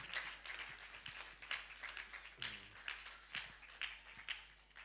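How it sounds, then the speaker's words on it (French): A church congregation claps hands together during a deliverance service, a steady run of roughly even bursts of applause-like clapping that rises and falls over a soft background. "Clap your hand for him."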